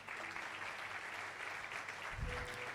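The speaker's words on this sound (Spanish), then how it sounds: "Un aplauso para nuestros hermanos." A church congregation claps during an evangelical service, producing a short burst of dense, steady applause from many people in a large room.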